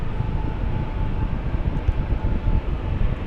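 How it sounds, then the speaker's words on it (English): Airliner engines at LAX building into a steady, broad low roar with a faint tonal whine above it, continuous and fairly loud throughout with no talk. "Oh, you can hear its engines powering up"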